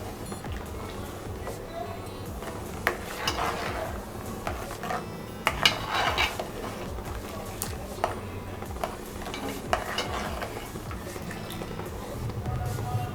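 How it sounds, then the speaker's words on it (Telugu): A spoon stirs carrot pulp into milk in a cooking pot for carrot kheer, giving soft irregular scrapes and light metallic clinks, close and fairly quiet, with faint liquid movement throughout. "పాలు క్యారెట్ గుజ్జు కలిసేంత వరకు తిప్పుతూ ఉండాలి."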